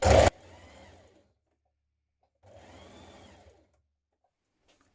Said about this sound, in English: Now pin at the crotch seam and stitch.